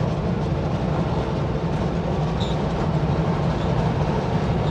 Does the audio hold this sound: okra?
no